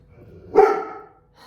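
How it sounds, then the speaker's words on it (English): One sharp dog bark, close and loud, then quiet. "you're gonna hear dogs barking"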